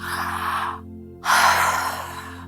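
Two long, airy breaths, a drawn-out inhale then a broad exhale after a short pause, close up and with no talking.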